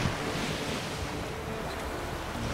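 Sail flapping in strong wind aboard a boat at sea in The Witcher 3, a steady broadband rush of wind and surf-like noise with no distinct flaps standing out, continuous and even throughout, no voices.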